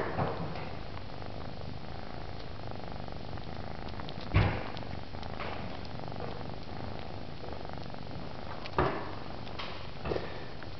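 Kittens suckling on a West Highland White Terrier, a soft continuous purring and wet nursing texture at close range, with a few faint bumps and clicks.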